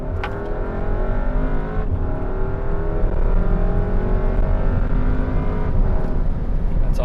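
A 2015 Audi A3 2.0 running E85 fuel with an upgraded Autotech high-pressure fuel pump accelerates hard. The engine drone climbs steadily, breaks twice at gear shifts and rises again, loud and close from inside the car.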